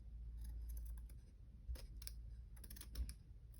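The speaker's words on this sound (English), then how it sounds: "See, these scissors are great." Scissors cutting paper and cardstock while making an envelope and tag scrapbook pocket, heard as a series of short, crisp snips at close range with some gaps between cuts and no talking.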